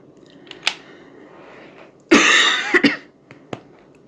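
A person coughs in a quiet room: one harsh, close cough burst followed by a shorter second one, with a few faint clicks and small noises around it.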